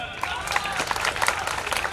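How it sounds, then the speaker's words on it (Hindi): Audience clapping at a Buddhist Dhammachakra Pravartan Day festival gathering, a brief, busy burst of applause over a roomy crowd murmur with sharp individual claps standing out. "जोरदार तालियां।"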